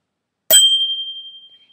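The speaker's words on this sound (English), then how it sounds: "the second bicycle bell is a lot less complicated" A single flick of a simple bicycle bell gives one sharp metallic strike and then a clear ring that fades slowly over about a second, close and alone in silence.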